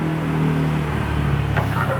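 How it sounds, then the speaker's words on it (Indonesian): Cars and motorbikes pass along a road, making a loud, continuous low engine rumble with a rising rev as one vehicle goes by close, with no talking. "Ngomong malah mobil, motor lewat terus."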